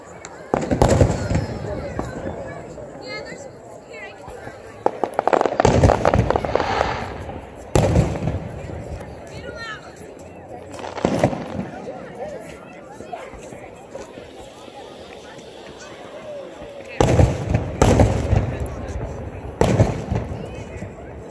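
Fourth of July fireworks burst in repeated loud booms and crackling volleys, several big explosions spaced a few seconds apart over a steady crackle, with people talking underneath throughout.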